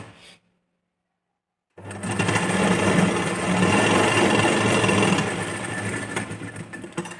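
After a short pause of near silence, a sewing machine starts up close and runs steadily, stitching a folded fabric strip for a blouse in a continuous rapid whirring chatter that tapers slightly at the end, no voices.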